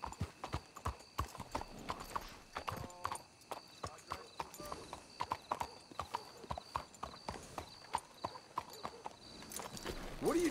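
Horse hooves clip-clop in the Red Dead Redemption video game, a rhythmic run of sharp, fairly close hoofbeats, with a faint whinny and game sounds underneath.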